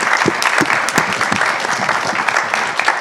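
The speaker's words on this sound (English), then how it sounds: "I would like a big applause for our panelists" Audience applause for panelists at a forum on the future of social development, brisk and fairly close, with individual sharp claps standing out from a steady mass of clapping.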